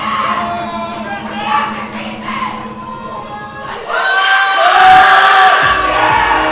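A powerlifting crowd at the 2025 Pan American Championships cheers and roars loudly during a 120 kg men's deadlift, with pumping music underneath; the shouting swells and grows louder toward the end.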